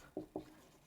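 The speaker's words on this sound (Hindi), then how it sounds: "एक हेडिंग लिखते हैं भाई" Writing a heading on a classroom board: two quick, faint strokes in a row, then quiet, with no voice.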